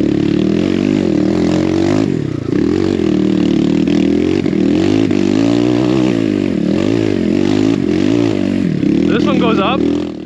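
Enduro dirt bikes, including a 2022 Yamaha 250X, climb a loose, dusty mountainside, engines loud and close, revving hard and steadily with rising and falling pitch as riders hold momentum; a voice speaks over the engine noise.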